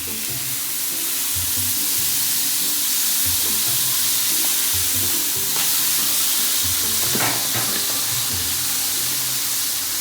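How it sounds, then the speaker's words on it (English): Cajun sausage sizzles steadily in a hot pan, a loud continuous frying hiss with crackling spatters, heard alone without talk. "That's some sizzle"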